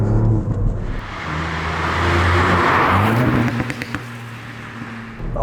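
Ford Fiesta ST with an aftermarket exhaust pulling hard under acceleration, a loud, close engine note climbing steadily in pitch across several seconds with no talk over it.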